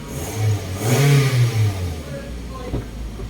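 A cold 2010 Toyota Vios with 266k km runs at high idle. Its engine note surges up and eases back in a loud, rough swell near the microphone, followed by a steady hum and one sharp click, with no voices.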